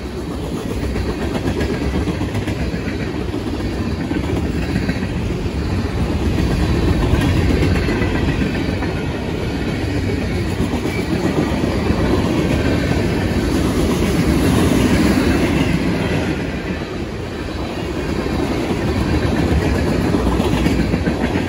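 A long CSX freight train with many tanker cars rolls past at the Attridge Road grade crossing in Churchville, New York, a loud, steady rumble and roar of wheels on rails that swells and eases slightly throughout.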